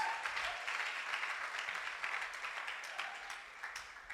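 A church congregation claps together in steady, dense applause for the Lord, sustained and even for several seconds with no voices rising above it.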